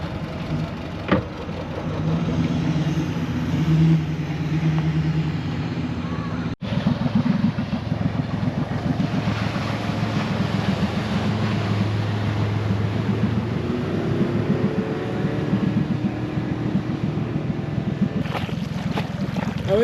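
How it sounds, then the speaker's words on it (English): A Stryker RIB LUX 580 inflatable, a 2024 custom high-performance boat, on a test run at Cultus Lake: a steady, close roar of engine and rushing water with wind buffeting the microphone, broken only by a brief dropout partway through. "We're out at Cultus Lake doing a test run on this Stryker RIB"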